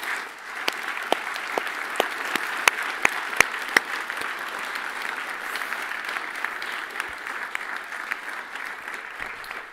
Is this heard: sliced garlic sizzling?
no